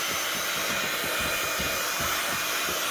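A hair dryer blows steadily at close range, a loud continuous airy whoosh and hum used to dry a mixed media journal cover, with no voices.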